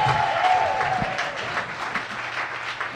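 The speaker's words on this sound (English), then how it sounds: "I think that deserves a round of applause." A comedy club audience applauds, a moderate wash of clapping that stays fairly even and slightly distant, with a faint tonal sound near the start.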